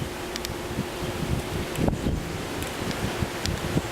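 Strong wind sweeps through backyard foliage, a continuous rushing roar with rustling leaves and a few soft knocks and creaks close to the microphone.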